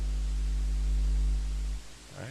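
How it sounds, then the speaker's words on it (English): A lo-fi plugin's buzz generator in Studio One gives a steady electrical hum with a strong low buzz, then drops away and shifts near the end, with no talk. "So that's the buzz generator."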